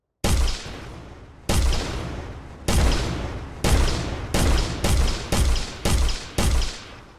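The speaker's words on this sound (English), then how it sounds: "Let's just disable the shot sound. That's getting annoying." Gunshot effect from an Unreal Engine 4 game, fired seven times in a row, each a loud, sharp bang with a rumbling decay, the shots coming closer together toward the end.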